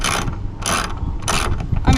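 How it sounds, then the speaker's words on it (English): A ratchet wrench removes four mounting bolts in repeated bursts of clicking, each lasting about a quarter second and separated by short pauses, heard close up with faint background noise. "So she's removing the 4 bolts to hold it on right now."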